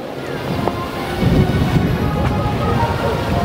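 Steady wind buffeting outdoors at a hilltop windmill farm in Tanay, Rizal, a broad rushing roar with gusts that swell slightly midway, loud and close, with no one speaking.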